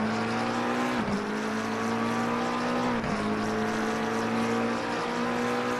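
A race car in a racing video game fishtails, its engine droning at a steady high pitch with two sharp dips in revs as the tail slides, continuous and loud with no talk.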